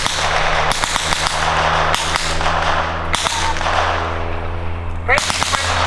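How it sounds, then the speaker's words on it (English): Machine-gun fire sounds at an antique airplane airshow, sharp bursts cracking over a loud, steady drone of vintage aircraft engines, with a rising whistle near the end. "One of the Baron's henchmen is down here on the ground with a machine gun."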